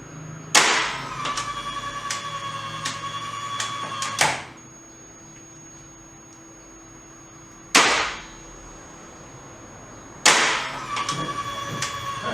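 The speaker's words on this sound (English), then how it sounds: "At first, we trip the breaker manually." A Hyundai HGN12 air circuit breaker is tripped by hand under test. Sharp, loud mechanical clacks mark each operation, three or four in all, spaced several seconds apart, with a steady hum and whine between them.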